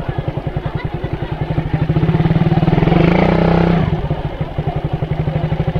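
A motorcycle engine putters at low revs in a market, briefly revs up louder, then settles back into a rhythmic idle thump, close by.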